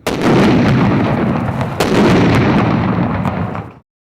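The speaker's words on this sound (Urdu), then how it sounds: "تقریب کے دوران پاک فوج کی 3 توپوں کی مدد سے گولوں کے 7 راؤنڈ فائر کیے گئے" Loud, sustained booming blasts from Pakistan Army cannons firing a 21-gun salute at a ceremony, the roar filling the clip with one sharp crack near the middle before it cuts off abruptly.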